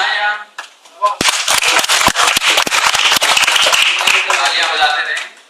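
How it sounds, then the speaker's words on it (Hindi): Audience at a college poetry recital breaking into loud, dense applause after a brief voice, sustained sharp clapping close and full for several seconds before tapering off. "तालियां बजाते रहे"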